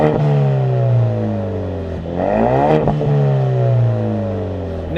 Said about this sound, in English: the sound of a finely tuned exhaust on a 4-cylinder or a V6 motor